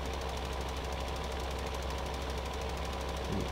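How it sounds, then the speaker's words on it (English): A seeding tractor's engine runs in Farming Simulator 15, a steady, loud, knocking diesel drone that holds constant throughout with no talking. "the seeding tractor, is also going round and it's going to be very close"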